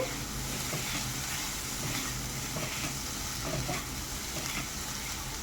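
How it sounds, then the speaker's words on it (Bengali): Capsicum, carrot and onion fry with chicken over high heat in an oil-free pan, a steady close sizzle with scattered stirring scrapes throughout, no voices. "এ পর্যায়ে চুলার আঁচটি হাই হিটে করে ভেজিটেবলসগুলো চিকেনের সাথে ভেজে নিতে হবে"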